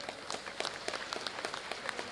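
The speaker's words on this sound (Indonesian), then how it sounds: "Tepuk tangan untuk guru besar kita." A seated audience at an Indonesian Kushin Ryu M Karate Do inauguration ceremony claps for the grand master: many scattered hand claps, quiet and somewhat distant, forming an even patter throughout.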